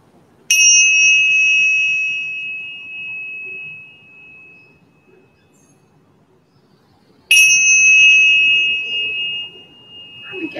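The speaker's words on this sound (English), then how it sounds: "I'm going to strike the chimes two more times." Chimes struck twice during a morning stretching routine, each strike ringing out as a bright sustained metallic tone that slowly fades, separated by quiet.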